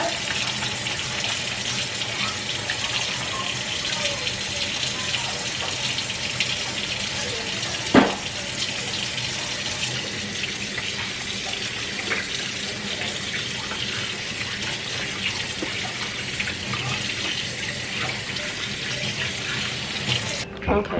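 A kitchen sink tap runs steadily after raw lamb chops are rinsed, a continuous broadband rush of water lasting throughout with one brief clatter midway, close and fairly loud, no voices.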